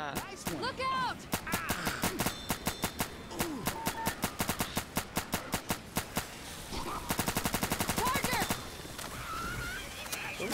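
Gunfire in the video game Left 4 Dead 2 rings out as loud, rapid single shots, then a fast automatic burst near the end, amid game chaos with players shouting over it.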